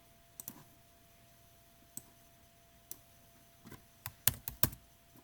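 Name being typed on a computer keyboard: a handful of quiet, scattered key clicks, sparse at first and then a quick cluster near the end, over a faint hum.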